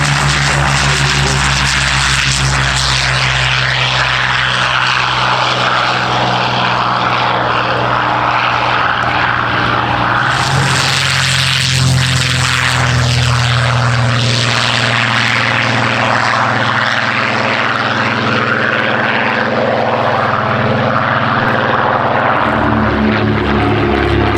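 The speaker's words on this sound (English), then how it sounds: "And the Seafire, of course, recently rebuilt and restored by Kennett Aviation. Now operating." A restored Supermarine Seafire propeller fighter flies past at an air display, its piston engine droning loud and continuous, swelling to a roaring, shifting pass overhead and then easing away.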